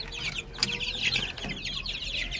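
Month-old Fermi and Tiger chicks in a dim pen give a busy, overlapping chorus of high cheeps and soft clucks, close and fairly loud.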